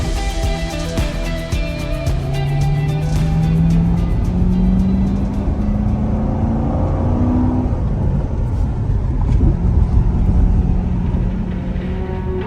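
A repaired 2017 Chevrolet Corvette Stingray drives along with a loud, steady engine drone, its pitch rising and falling through gear changes as it cruises close by.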